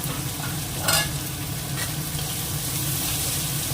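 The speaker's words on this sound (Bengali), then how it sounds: "পেঁয়াজটা ভাজা হয়ে গেছে" Onions frying in a pan with slit green chilies, a steady close sizzle with a couple of stirring scrapes, no talking.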